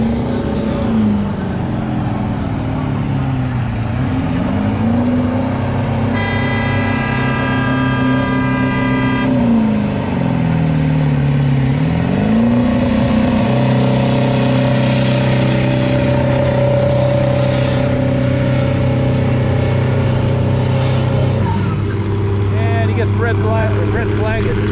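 A street-class diesel truck roars at a spring truck pull in Lynden, its loud engine revving, sagging and climbing again in long surges before settling into a sustained heavy drone close by.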